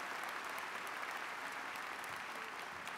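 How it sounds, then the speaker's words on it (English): Steady, dense applause from a large audience at a college commencement ceremony, continuous even clapping throughout at moderate volume with no talk. "Let's have a round of applause for them as well."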